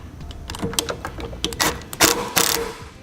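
Self-tapping screws driven by a power driver into the plastic front fascia of a 2015 towed vehicle, a close, whirring, ratcheting buzz in short uneven pulses that grow louder toward the end, with no talk.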